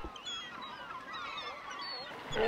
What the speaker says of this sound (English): Which in turn sets a flock of gulls in motion.